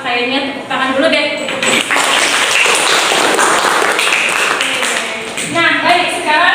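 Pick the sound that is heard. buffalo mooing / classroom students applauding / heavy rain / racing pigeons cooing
classroom students applauding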